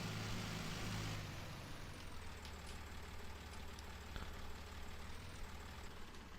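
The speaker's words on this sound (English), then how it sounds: "we got ourselves a Case IH 33 series tractor here" Case IH 33 series tractor in Farming Simulator 19, its engine droning steadily at a low idle-like hum while driving, faint and even from start to finish.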